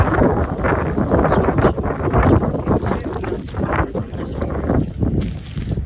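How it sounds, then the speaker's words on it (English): Steady, loud wind buffeting and rumbling across the microphone, gusting continuously throughout with some rustling underneath. "Can you hear that wind?"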